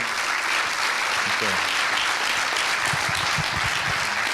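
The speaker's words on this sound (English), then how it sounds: "Vous pouvez l'applaudir." Steady applause from an audience fills the space, a dense wash of clapping continuing throughout at an even level.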